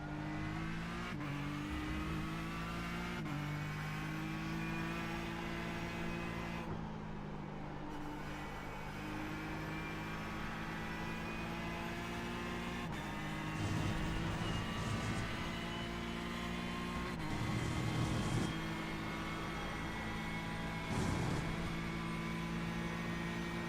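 A GT race car from the iRacing sim, the 4GT once driven by Fernando Alonso at Le Mans, drones steadily with its engine note rising and falling through shifts, plus occasional tire and wind roar.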